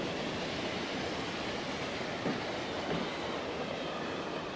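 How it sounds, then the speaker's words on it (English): An oil train in Transport Fever 2 rolls along the rails with a steady, dense rumble and faint clatter, holding constant and loud with no voices. "here comes another oil train returning to the depot to be filled with fresh, refined oil."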